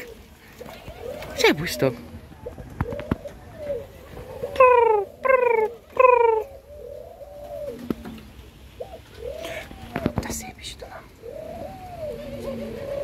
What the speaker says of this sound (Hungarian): Hey, galambok!